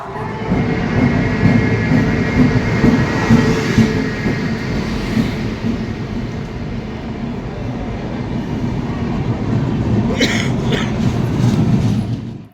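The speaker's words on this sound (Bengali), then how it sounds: "দেখেন 1 নম্বরে ঢুকছে কিনা ট্রেন।" A train rumbles steadily close by as it pulls into a station platform in Ranchi at night, its heavy rolling noise building, then a high metallic brake squeal near the end.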